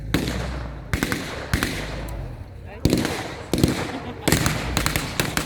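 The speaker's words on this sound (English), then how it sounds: "There goes the mini mortar" A mini mortar and small arms fire at a World War II battle reenactment staged as Italy in 1944, a series of sharp loud cracks and booms at irregular intervals, some close together, over background crowd noise.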